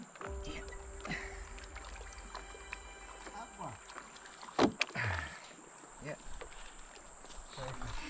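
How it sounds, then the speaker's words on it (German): A self-built traditional wooden raft drifts down a river in the Amazon, with soft splashes, a louder paddle or water slap near the middle, and faint insect chirps in the background. "Für uns ist es ein richtiger Spaß, mit so einem selbstgebauten Floß den Fluss hinabzufahren."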